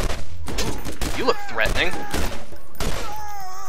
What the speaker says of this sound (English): He says as he pumps 4 headshots into him